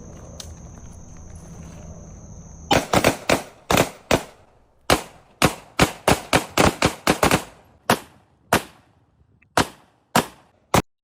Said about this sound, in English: see that there are still gunshots going off